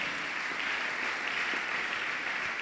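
Steady, continuous applause from a church congregation acclaiming the Lord, a dense even wash of clapping heard at moderate distance.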